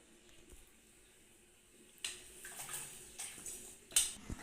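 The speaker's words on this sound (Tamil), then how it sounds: "குடல் வந்து மஞ்சத்தூள் போட்டு கழுவிக்கலாம். நல்லா பிசைஞ்சு கழுவணும்." Goat intestines are scrubbed and kneaded by hand with turmeric, giving faint wet squelching and light splashing that grows more active in the second half, with a few sharper clinks.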